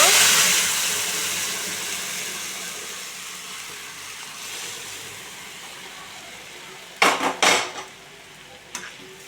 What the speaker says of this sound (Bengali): জিরে সম্বরা দিয়ে দিলাম এবার আমি ডালটা ঢেলে দেব